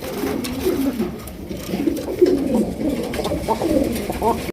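Red Bombay pigeons coo repeatedly in soft, low rolling calls close by, with steady background noise throughout.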